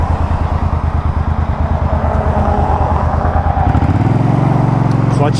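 A Suzuki Boulevard C50T cruiser motorcycle running, a loud, close engine with a steady throbbing pulse that rises in pitch near the end as the bike revs and pulls away.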